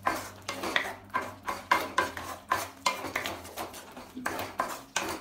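Cashew masala curry is stirred in a pan, a spoon scraping and clinking against the metal in a steady rhythm of about a dozen strokes, close and fairly quiet.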